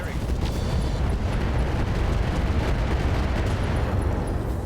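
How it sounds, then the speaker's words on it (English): A mech fires improved rounds at a Padilla vehicle in the RogueTech video game, producing a dense, continuous roar of heavy weapon blasts and rumbling explosions. "we're going to hit the Padilla, not using AX rounds. We're going to fire improved rounds."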